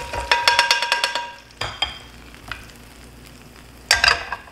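Chunjang black bean paste hisses and spatters in plenty of hot oil as it is stir-fried in a pan for a Chinese dish, with loud bursts of sizzling and crackling that ease off, then flare up again near the end.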